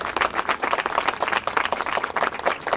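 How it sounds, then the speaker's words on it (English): A room full of people at a Chicago alderman's press conference claps steadily, a dense burst of applause that stays loud and even for a few seconds with no speech. "Give them all a round of applause for being here."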